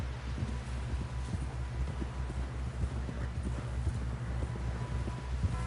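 Horse hooves in Red Dead Redemption 2, a steady, rapid clip-clop of a galloping horse continuing throughout, close and fairly loud over a low rumbling, rustling outdoor bed.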